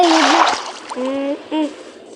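A splash into a swimming pool in Minecraft, a burst of water noise at the start followed by brief tonal game sounds and a short voice.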